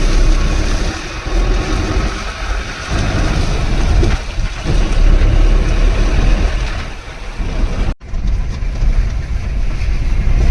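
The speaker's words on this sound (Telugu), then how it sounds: "ట్రైన్ లోడింగ్ అంతా ఇక్కడే అవుతుంది." Steady mechanical rumble and rail noise from a coal train at a coal mine loading point, continuous and fairly loud throughout with a brief dip near the end.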